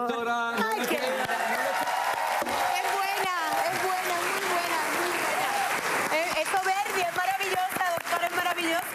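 A studio audience at a live television variety show claps steadily throughout, the applause running under continuous talking and voices.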